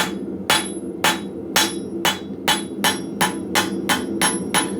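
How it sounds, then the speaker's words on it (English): A hammer strikes a metal bar on an anvil about ten times, flattening it while forging pickle tongs; the blows are loud, close and sharply ringing, spaced evenly at roughly two per second with no talk. "I'm going to flatten that bar down. And I'm going to take it about maybe an inch beyond my anvil."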